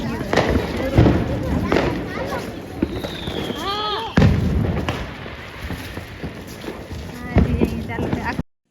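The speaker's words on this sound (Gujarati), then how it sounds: "ગલીમાં લગભગ તો બધા ફટાકડા પડી ગયા છે અહીંયા જો" Diwali firecrackers go off in a residential lane: sharp bangs spaced a few seconds apart and a rising whistle partway through, close and loud, while people talk nearby.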